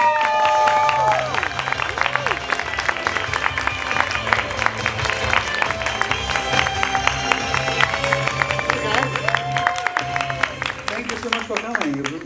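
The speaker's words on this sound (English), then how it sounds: "please give me a big warm round of applause to the Disney legend, Andreas Deja." Audience applause at a FanDaze 2018 conference talk with animator Andreas Deja, dense clapping from a large crowd, sustained and loud throughout with a few faint voices mixed in.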